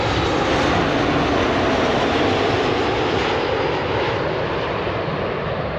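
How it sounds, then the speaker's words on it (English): A Southwest airliner coming in to land fast near Washington D.C., a loud continuous engine roar holding steady throughout. "Even at that speed, folks, I think those planes are going at 180 miles an hour"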